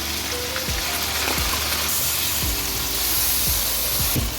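Beef pieces sizzle and fry in a pan as garlic ginger paste goes in, a steady close hiss with occasional stirring knocks, no talking.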